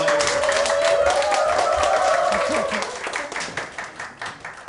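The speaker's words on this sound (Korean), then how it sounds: "우리 김장 목사님 모시겠습니다. 박수로" Church audience claps to welcome a pastor to the lecture stage, dense applause that starts strong then thins and fades toward the end, with a faint voice briefly heard under it.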